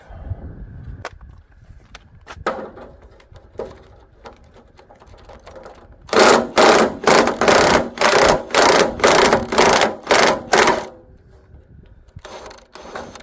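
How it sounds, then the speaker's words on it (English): A ratchet wrench clicks in a quick rhythmic series of about a dozen loud, close bursts while removing bolts from a 1953 Farmall International Super C tractor, with quieter metallic handling and clunks before and after. "Now I'll remove these few bolts if they'll come off"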